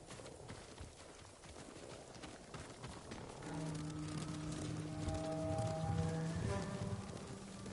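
Horse hooves clip-clop steadily in the Ghost of Tsushima video game, a continuous trotting patter that carries on as sustained orchestral music swells in underneath.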